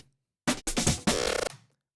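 Rearranged drum loops play as three short, punchy bursts of chopped breakbeat separated by brief gaps, close and dry, with silence before and after.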